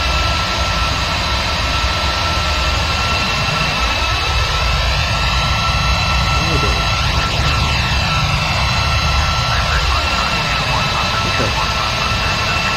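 Airbus A340 jet engines in Flight Simulator X, a loud steady cockpit roar and whine at cruise power, holding constant throughout with slowly shifting tonal sweeps.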